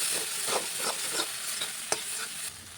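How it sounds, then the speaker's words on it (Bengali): Coriander powder being stirred into a sautéing mixture with a little water in a pan while making potol chingri (pointed gourd with prawns), with a steady sizzle and several soft spoon scrapes, close and alone. "এবারে দিয়ে দেবো এক চামচ ধনে গুঁড়ো ভালো করে এর সঙ্গে কষিয়ে নেব"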